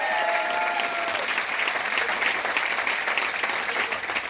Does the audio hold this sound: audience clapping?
yes